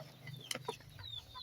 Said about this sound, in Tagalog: pakain ng mga manok ha.